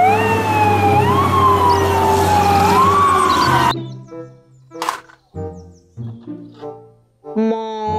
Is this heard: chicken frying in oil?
no